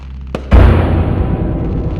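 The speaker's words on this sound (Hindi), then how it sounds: "कुछ बच्चे पटाखे भी जला रहे हैं।" Firecrackers set off by children during Diwali: a sharp pop, then one loud close deep boom with a long rumbling tail.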